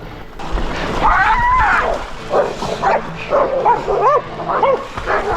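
Hunting dogs holding a boar give a close, loud run of barks, yips and whimpering cries in uneven bursts, with scuffling underneath.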